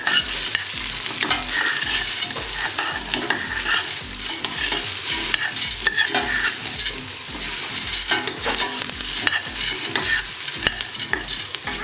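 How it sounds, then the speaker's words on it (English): Two tablespoons of bouillon toasting and stirred in a hot pan for Mexican poor man's soup, a steady close sizzle with frequent scraping stir strokes throughout, no voices. "we're going to add the 2 tablespoons of bouillon. We want to toast it a little so it lets out its fragrance and its oil."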